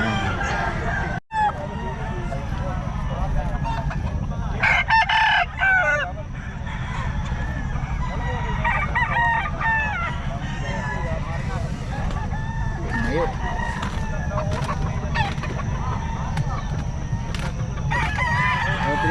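Loud rooster crows ring out repeatedly, with chickens clucking throughout and people talking nearby.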